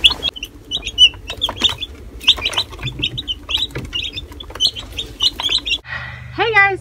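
Meat chicks peep in a steady, busy chorus of high, close chirps, with a few clucks and brief rustling mixed in, and a short vocal squawk near the end.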